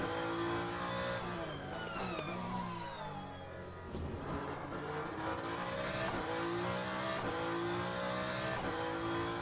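A Ferrari 499P hypercar in the Le Mans Ultimate racing sim screams at high revs, with rising gear pulls, a quick downshift and dip in pitch, then hard acceleration again, loud and continuous.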